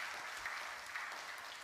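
A church congregation claps to welcome a new member at a Sunday service: a quiet, steady wash of applause from a distance, with no one speaking over it.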